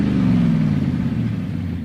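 A Suzuki Jimny small off-road SUV with a 1500cc engine accelerates, its loud, close engine giving a steady low rumble that eases slightly toward the end.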